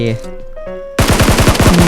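Rapid gunfire bursts in PUBG Mobile after a short stretch of tonal game sounds, loud and continuous to the end.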